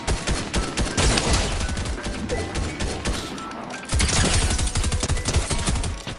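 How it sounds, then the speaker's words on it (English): Dense, rapid gunfire in the video game Fortnite, with loud overlapping shots and bursts running continuously throughout. "I was hearing some gunshots from here"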